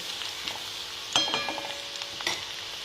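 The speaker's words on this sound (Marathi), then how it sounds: "आता आपलं छान फोडणी उकळते" Spiced onion tempering for an eggplant masala sizzles and bubbles in a pan, a steady close hiss with occasional sharp crackles and the scrape of stirring, with no voices.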